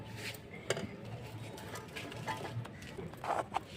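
Thick palm fruit pulp for sandesh is stirred in a metal pot, giving soft scraping with a few sharp clinks of the spoon against the rim. The sound is quiet and close.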